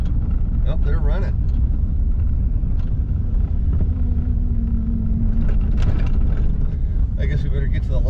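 Race car engines rumble steadily at the El Mirage dry lake land speed event, a continuous low roar with a few higher passing whines, heard close under a person talking.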